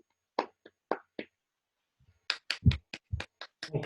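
Scattered hand claps greet a speaker walking up to the lectern at a Toastmasters club meeting: a few sparse, sharp claps, a pause, then a quicker run of claps, all fairly faint.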